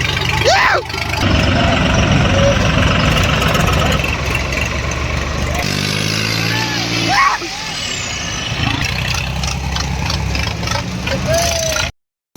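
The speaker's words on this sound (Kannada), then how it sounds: "ಎಲ್ಲ ಫುಲ್ ತಿಂಡಿ ಟ್ರ್ಯಾಕ್ಟರ್ಗಳು ಬಂದು ನೋಡ್ರಿ ಶಿರ್ಬೂರ್ ಕನಕ್ ಎಂಟ್ರಿ." Tractors arriving at a gathering in Shirabur, heavy diesel engines idling and revving nearby with a hiss like an air brake, someone talking over the steady rumble, sound cutting off abruptly at the end.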